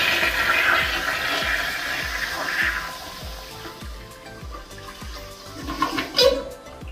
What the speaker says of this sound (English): We can now turn our water on and test the toilet.